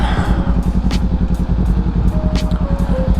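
Kawasaki Ninja 400 motorcycle being ridden, a steady loud engine drone with rhythmic pulsing and wind rush throughout, a faint whine rising near the end.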